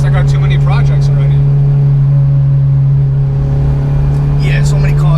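An Acura RSX engine drones under throttle, a steady low hum holding a constant pitch from inside the car, close and loud with faint voices in the background.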